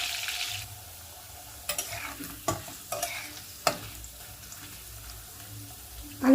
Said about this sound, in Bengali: আলুটা আমি 1 মিনিটের মতো ভেজে নেব।